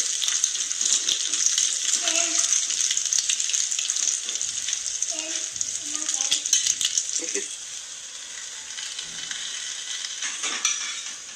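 An egg omelette sizzles and crackles steadily in a frying pan, with occasional soft scrapes and spatula stirs; the frying is close and continuous throughout, and there is no speech.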